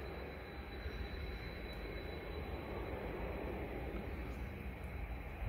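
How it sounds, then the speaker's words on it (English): A formation of US Air Force KC-135 tanker aircraft at Prestwick Airport gives a steady, distant broadband engine roar that holds even throughout with no voices. "Another three KC-135s."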